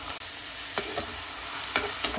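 Green chilli paste fries in hot tempering oil for brinjal curry, giving a steady, quiet sizzle broken by several sharp scrapes of a spoon stirring the pan.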